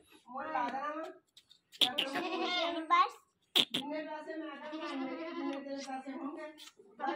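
A newly bought goat bleats repeatedly at close range, its wavering cries coming in several long bursts with brief gaps, while people talk nearby.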